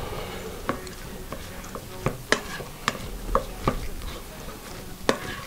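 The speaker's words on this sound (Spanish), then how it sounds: "Y vamos a remover." Sushi rice being stirred with vinegar seasoning, a paddle or spoon scraping and tapping in a steady series of light clicks and knocks, close and fairly quiet over a low background hum.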